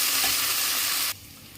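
Cashews, coriander and mint sizzle loudly as they are stirred and fried in a pan for ghee rice, a steady broadband hiss that drops abruptly to a quieter fry near the end.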